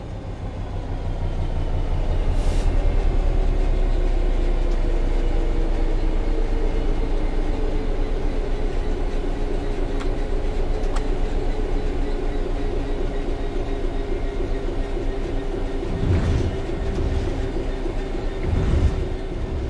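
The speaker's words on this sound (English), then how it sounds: "The train will then coast on level ground, and the train will only slow down very gradually." A train coasting along level track in Train Sim World 3 gives a continuous rolling rumble with steady wheel-on-rail drone and a few brief squeals and clicks, loud and close.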